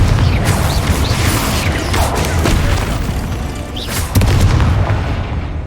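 Heavy booming blasts from the Confringo spell in Hogwarts Legacy, a loud, close rolling rumble with debris crashes, surging again in a fresh burst toward the end.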